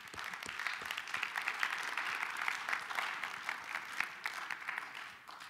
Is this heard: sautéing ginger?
no